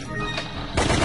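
Gunfire in the video game Resident Evil: The Umbrella Chronicles, a dense, continuous clatter of shots that swells louder near the end of the short burst, with no talking over it.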